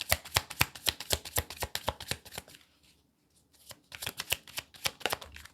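A deck of tarot cards is shuffled up close in quick riffling bursts, stopping for a brief pause and then starting again, with no voices over it.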